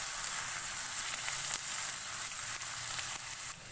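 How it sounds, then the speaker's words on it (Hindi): Chopped onions sizzle steadily in a pan as they soften, a dense, even frying hiss close up with faint stirring scrapes and no voices. "सॉफ्ट होने तक इसको पकाएंगे।"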